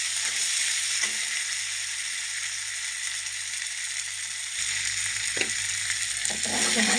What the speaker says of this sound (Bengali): এই যে পেঁয়াজটা দিয়ে দিলাম পেঁয়াজটা দিয়ে এখন ভেজে নেব